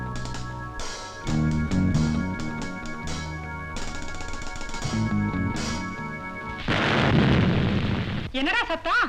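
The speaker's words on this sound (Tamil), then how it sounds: "அது ஃபியூஸான பல்பு தூக்கி போட்டா வெடிக்காதா" A fused light bulb is thrown and bursts with a loud, noisy crash that lasts over a second. Tonal, music-like sounds come before it, and a brief voice-like warble follows.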